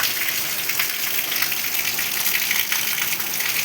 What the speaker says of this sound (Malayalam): വേനൽ മഴ, മഴക്കാലം വന്നേ